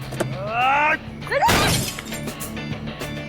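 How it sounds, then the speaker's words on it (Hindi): A sharp crash of a stone striking and shattering on a police car, preceded by a rising whistle-like tone, with voices in the background. "पुलिस की गाड़ी को पत्थर मारेगा?"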